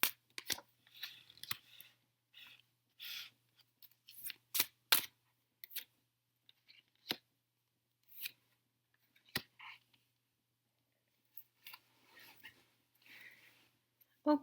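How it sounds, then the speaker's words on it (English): Tarot cards are shuffled and riffled in short, crisp bursts, close by and quiet, with pauses between the rustles. "separate and shuffle them"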